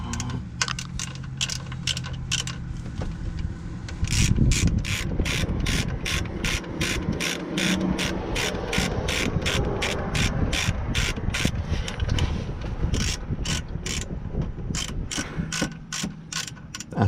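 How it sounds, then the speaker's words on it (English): Rapid repeated clicking of a 17mm socket ratchet working the oil drain plug on a Honda Fit, in close bursts of ratchet clicks with a brief pause near the middle, no talk. "We have a 17mm socket and our ratchet."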